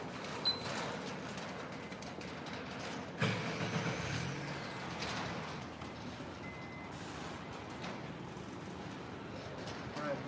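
A Honda Civic Hybrid engine starts and runs in a loud, steady rumble close by, with a brief surge near the start, while the car is rigged as a generator.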